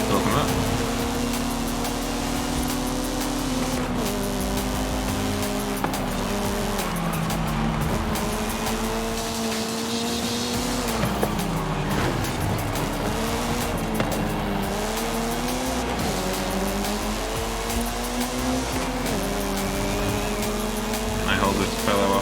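Racing car engines in Forza Horizon 5, a V8 among them: steady, loud engine roar rising and falling through gear changes for twenty seconds, with tires squealing and a voice talking over it.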